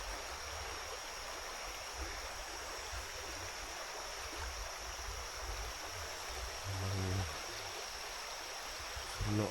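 A river flows in a steady, broadband rush, a continuous even wash of water at moderate level that stays unbroken, with a few low thumps near the end.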